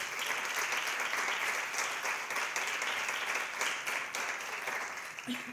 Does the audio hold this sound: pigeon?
no